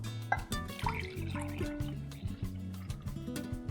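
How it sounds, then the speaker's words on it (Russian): Water pours and drips into a container with wet, gurgling splashes, close up and fairly brief. "Туда же отправляю воду"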